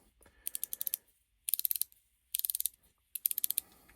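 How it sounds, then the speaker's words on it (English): The rotating bezel on a Timex Expedition Anchorage watch ratchets in four quick bursts of crisp, evenly spaced clicks, about five to seven clicks per turn, close up and quiet with short pauses between. "Now, the bezel is rotating."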